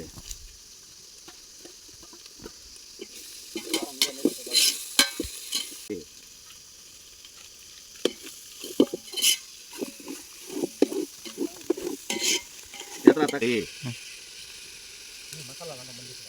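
Garlic stir-fried in a hot pan sizzles throughout, with repeated scraping and stirring knocks from a spatula, busy and close, growing livelier in the middle.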